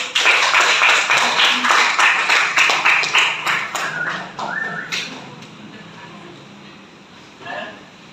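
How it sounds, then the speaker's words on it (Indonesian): Classroom applause for two presenting students. Brisk group clapping, loud and close for about four seconds, then trailing off into scattered claps and a quiet room. "Beri aplaus untuk Farel dan Agung."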